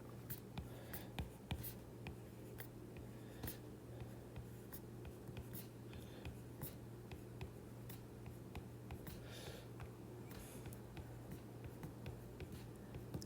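A pen or pencil scratches across paper while a periodic table grid is drawn by hand, with quick repeated strokes and faint ticks in an irregular rhythm, quiet and close over a low background hum.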